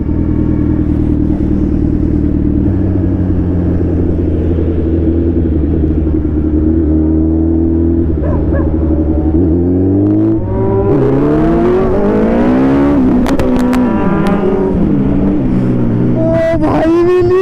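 A motorcycle engine rumbles and revs during a wheelie, loud and close, with a steady low drone that climbs in pitch through repeated rising revs; voices talk over it.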